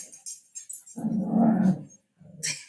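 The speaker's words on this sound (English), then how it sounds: "Gunpowder, all the dogs are in here." Several dogs indoors, barking in short bursts and then giving a longer, loud growling snarl, close by, with a brief pause before another bark.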